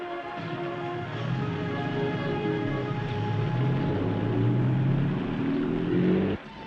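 A car engine running steadily as the car drives off in the rain, a close, even hum that slowly rises in pitch before cutting out abruptly near the end.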